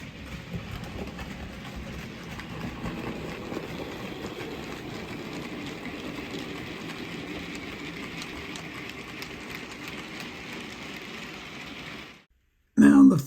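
A model railway locomotive runs around the loop with a steady, moderate mechanical hum and faint clatter that cuts off abruptly near the end, followed by a short burst of louder sound.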